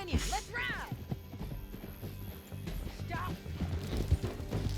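Horse galloping in Red Dead Redemption 2: quick rhythmic hoofbeats with a couple of whinnies, under game voices and a shouted word, part of a fast ride down a canyon.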